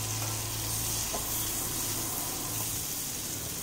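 Capsicum roasting in a pan, shown as a steady close sizzle of frying that runs unbroken through the whole stretch, with faint clinks and a little stirring in the background.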